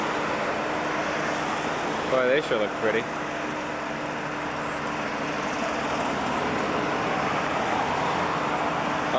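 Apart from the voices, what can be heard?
car traffic passing on Mass Ave, Lexington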